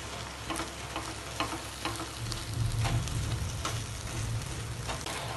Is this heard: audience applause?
no